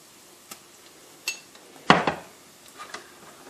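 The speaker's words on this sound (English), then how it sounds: "Give this a good stir." A utensil stirs garlic and softened onions in a pan on the stove, giving a few scattered metallic clinks and scrapes, one louder clatter in the middle, with no talking.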